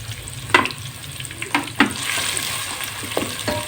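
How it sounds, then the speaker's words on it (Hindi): Sliced onion frying in hot oil for an aloo salan, a close, steady sizzle with several sharp stirring scrapes and clacks of a spoon against the pan. "ये नाजरीन मैंने इसमें प्याज डाल दिया है।"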